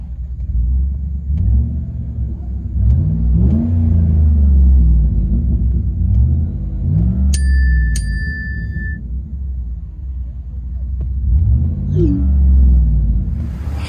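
From inside the cab of a 2012 Chevy Silverado LS with a 5.3L V8 and Carven R-Series exhaust, a deep engine rumble idles with several slow revs swelling and fading, along with a brief chime partway through.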